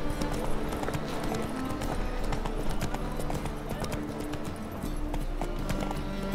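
Galloping hooves of Roach, the horse in The Witcher 3, a rapid steady clip-clop that carries on continuously under game sounds.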